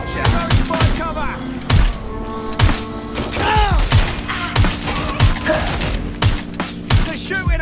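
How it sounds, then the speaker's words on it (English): Enemy gunfire in Watch Dogs: Legion: loud, sharp shots at irregular intervals with thuds and impacts, mixed with game sounds and voices. "They're shooting at us!"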